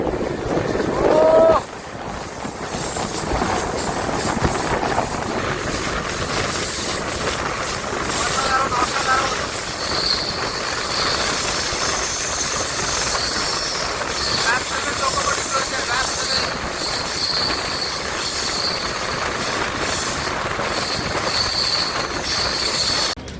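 Kanchanjunga Express passenger train running through a curve on the loop line, a loud continuous rumble of wheels with metallic squeal and hiss.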